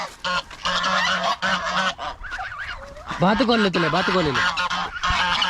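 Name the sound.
ducks calling at a farm house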